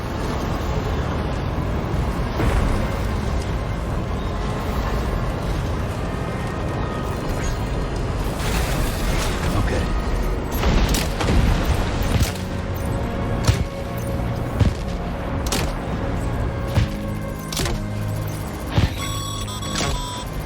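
Loud, dense battle din from a firefight in the video game Death Stranding 2, with sharp bursts and booming blasts over a constant rumble, and a voice speaking in places.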